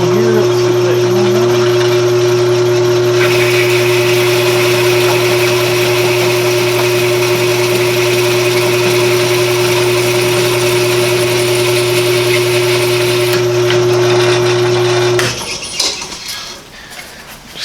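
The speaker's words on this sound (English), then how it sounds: "I'm boring a 3/4 inch hole in it right here for the ignition switch to go in" A boring tool cuts a 3/4 inch hole in sheet metal for an ignition switch on a Model A hot rod shop truck, a loud, steady motor whine with a constant tone that stops near the end.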